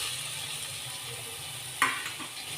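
Cashews stirred into frying prawn masala in a pan for a Konkani curry, a steady low sizzle with one sharp scrape of a spoon near the end, no talk.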